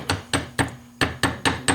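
A hammer strikes rolled round metal wire laid on a steel block to straighten it flat, giving seven sharp, ringing metallic blows in a fairly even rhythm, close and clear with no talking.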